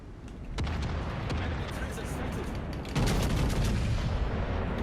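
Battleship main guns fire in World of Warships from a South Dakota class Alabama, a few sharp booms over a steady rumbling battle bed, with a heavier salvo near the middle.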